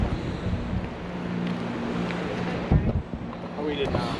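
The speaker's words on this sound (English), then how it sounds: "It's pretty windy. It's windy. It is windy as heck." Strong wind buffets the microphone at a coastal lookout in Maine above choppy water, a steady roaring rush with a brief louder gust partway through.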